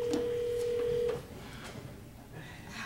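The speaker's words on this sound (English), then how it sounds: "It's ringing." A ringback tone sounds on an outgoing mobile call, heard as one steady electronic tone lasting about a second, then fading into quiet line noise.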